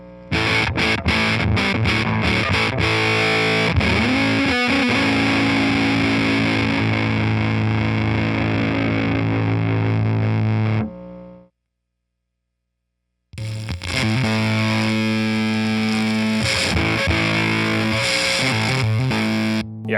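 Electric guitar driven through a homemade fuzz pedal built on a breadboard with its tone capacitor pulled out, giving a harsh, buzzy, bright distortion on strummed and held notes, loud and close, with a brief silent gap midway.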